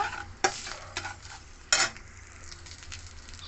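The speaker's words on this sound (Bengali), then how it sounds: "এই যে তেলটা বসেছিলাম তার মাঝে আমি দিয়ে দেবো শেষে হিং" Asafoetida (hing) sizzles in hot oil for a Khaman dhokla tempering, with a soft steady fry, two sharp louder bursts of sizzle and clinks of a spoon stirring the pan, close by, with no talk.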